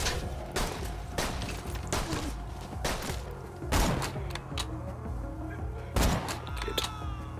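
Gunfire in Borderlands 2, with separate sharp shots and booming thuds spaced irregularly over a steady game background, fairly loud and close.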